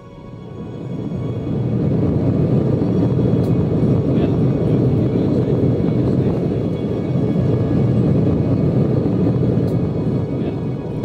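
A fixed-wing airplane flies with a steady, loud broadband roar that swells in over the first two seconds and then holds constant throughout.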